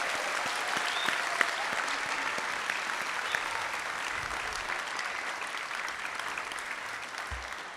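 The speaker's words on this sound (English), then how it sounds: "Please join me one more time in giving a round of applause for all their accomplishments" At a senior school assembly, a large audience gives a sustained round of applause, an even, continuous roar of clapping hands at steady loudness, with a few low thumps underneath.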